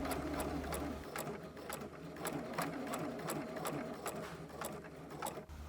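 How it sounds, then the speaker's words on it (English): A sewing machine stitches a corset seam in a steady, rapid run of needle clicks at close range, with no voices. "Now we can line up the two seam lines so that they are continuous and sew."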